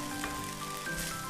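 Chili paste and crispy fried catfish sizzle in a high-sided wok as they are stir-fried, giving a soft, continuous crackle at low volume.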